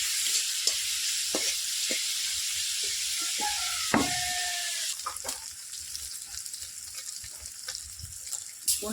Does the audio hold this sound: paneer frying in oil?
yes